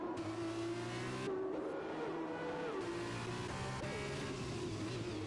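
Formula racing cars in the F1 2021 video game at the Australia circuit, a dense, continuous engine whine with shifting pitch as cars rev and jostle close together, steady and loud throughout.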